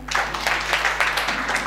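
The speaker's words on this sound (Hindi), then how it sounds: "लेकिन सर के लिए तालियां" A science workshop audience bursts into brief, dense applause for a teacher, many hands clapping at once over a low electrical hum.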